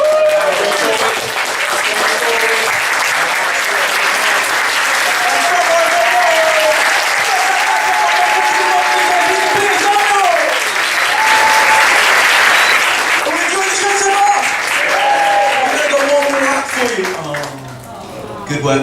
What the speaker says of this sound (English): are we ready to get the applause going?